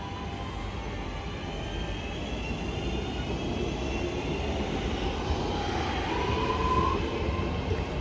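A Northern train departing Manchester Airport for Blackpool North gives a steady, fairly close rumble and whine that holds throughout, with no voices.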